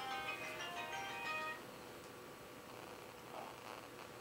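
Phone ringing with a bright electronic ringtone, a few rapid tonal pulses for about a second and a half, then a quiet room with faint background noise.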